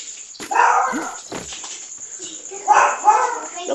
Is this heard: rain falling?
no